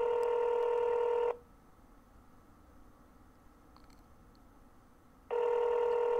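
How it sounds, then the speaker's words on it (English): A telephone rings in a shop or store setting, two loud electronic ring bursts separated by a few seconds of near silence, close and clear with no talk. "Just like that phone keeps ringing"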